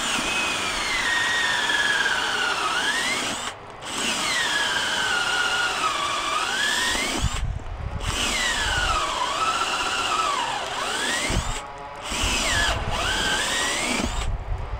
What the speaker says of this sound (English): you got to drill a couple holes